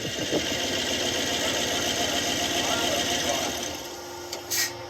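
An old farm truck engine idling steadily after being brought back to running, with an even mid-pitched rumble and slight valve tapping, close and continuous while people talk nearby.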